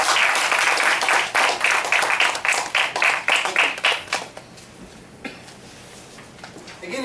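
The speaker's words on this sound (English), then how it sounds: "So can we give a big round of applause to them?" Loud, close applause for a Toastmasters club's charter members, dense clapping for about four seconds that trails off into quiet room noise.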